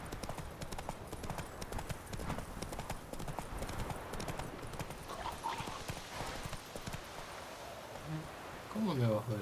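Horse hooves clip-clop steadily at a walking pace in the video game The Witcher 3, a close, rhythmic patter over faint rustling, with a short voice and tonal game sounds near the end.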